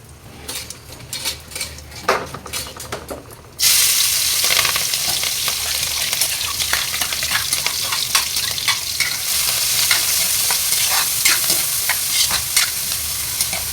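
Onion, garlic and green chili hit hot oil in a pan for an Indian recipe, breaking into a loud, steady sizzle that holds unbroken after a few seconds of quieter clinks and stirring.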